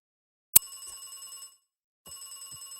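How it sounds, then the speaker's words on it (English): A telephone ringing in the video game Beacon Pines, starting with a sharp click, then two bursts of electronic bell-like trilling separated by a short silence, close and clear. "Phone."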